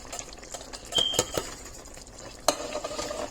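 A whole can of rinsed and drained baby butter beans goes into a cooking pot, with a few sharp metallic clinks and clattering taps against a soft, steady background hiss.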